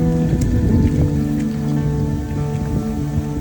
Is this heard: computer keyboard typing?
no